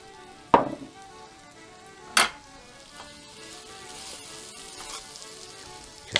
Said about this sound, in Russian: Закидываю лук.